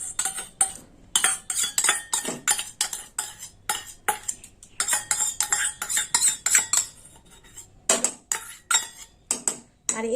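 Chopped green jackfruit being mixed by hand or spoon with beaten sour yogurt, salt and sugar in a bowl, giving repeated close clinks and scrapes of utensil against the dish in an uneven rhythm, with no talking.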